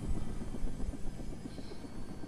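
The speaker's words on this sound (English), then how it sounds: "Oh, helicopter's coming!" A Fortnite helicopter drawing near, its low rotor thump pulsing steadily at moderate volume with a faint engine whine layered on top.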